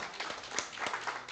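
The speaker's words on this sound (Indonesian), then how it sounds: "tepuk tangan untuk kita semua" Brief burst of audience clapping at an Islamic talk show event for converts, a few distinct claps standing out in a short, moderately loud patter.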